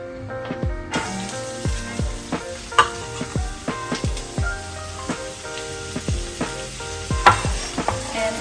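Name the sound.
ginger and garlic frying in a pan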